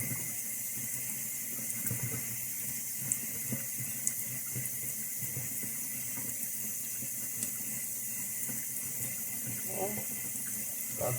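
Tap water runs steadily into a sink while etched glass is rinsed, a constant hiss and splash with occasional small clinks and handling sounds.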